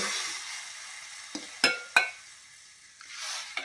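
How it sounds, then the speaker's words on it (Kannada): A spoon scrapes and taps against a frying pan a few times while boiled tomato and split moong dal cook, with soft sizzling underneath; faint, close, and sparse. "ಸ್ವಲ್ಪ ಬಾಣಲೆಯಲ್ಲಿ ಸ್ಪೂನ್ ಅಲ್ಲಾಡಿಸಿ"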